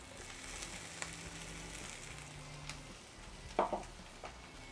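Onions frying in a pan, a steady low sizzle throughout with a brief louder clatter or stir near the end; no talking.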